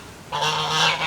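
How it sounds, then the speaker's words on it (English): Cotton patch geese, a Southern heritage breed, honk loudly in one sustained, raspy call close to the listener, rising out of a quiet background. "our geese"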